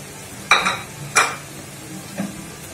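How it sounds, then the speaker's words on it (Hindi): Finely chopped carrot tipped into a pan of onion mixture for Karachi samosa filling, giving two close clattering thuds followed by a fainter third, over a low steady background with no talking. "अब इसके अंदर मैं ये गाजर डाल दूंगी"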